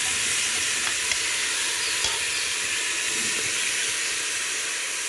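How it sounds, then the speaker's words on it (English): A pot of curry goat sizzles and hisses continuously up close while being stirred, with a few faint clinks of the spoon over the steady bubbling steam. "and stir this pot, and then I'll let you guys see again."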